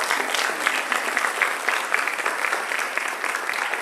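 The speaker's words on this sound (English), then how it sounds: "So let's give another round of applause." An audience at a college celebration breaks into steady, dense applause, moderately loud and even, with no speech over it.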